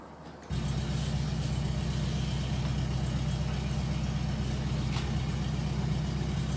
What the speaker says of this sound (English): See, the propeller is running.